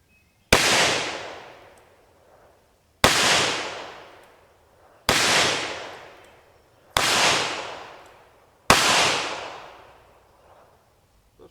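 Five sharp .38 caliber gunshots firing X-Treme copper plated bullets, evenly spaced about two seconds apart, each a loud crack with a long decaying echo, outdoors with no voices.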